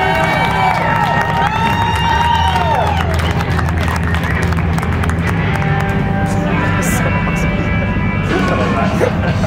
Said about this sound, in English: Big round of applause for Jairus Wright.